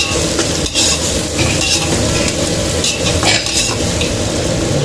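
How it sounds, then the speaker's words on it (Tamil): Loud, continuous sizzling of onions frying in oil for chicken biryani, with a utensil stirring and scraping the pan throughout. "இதெல்லாம் போட்டு நல்லா வதக்கிக்கணும்"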